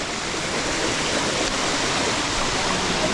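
Miyamit Falls in Porac, Pampanga pours in a constant, dense rush of white-noise-like water, steady and close with no voices.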